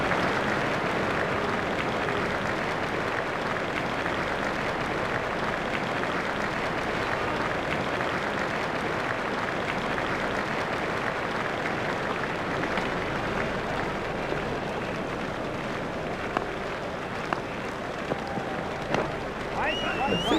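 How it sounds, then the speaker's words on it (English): A cricket crowd at a South Africa versus Australia one-day international gives Ricky Ponting a standing ovation for his century, steady broad applause and crowd noise running throughout. "Crowd are standing to applaud him."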